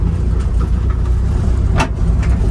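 Daihatsu Jumbo HiJet mini truck pulling away from a stop in third gear, a loud steady low engine drone with road rumble, heard up close from inside the cab.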